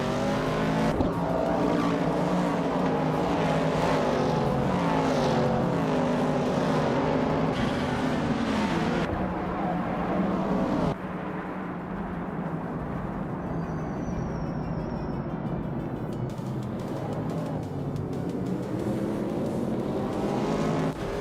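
Race car engines roar steadily in a racing video game, a pack of cars including a 1967 Mercury Cougar on a circuit at Les Sauts, loud and continuous with layered engine drones and shifting pitch throughout.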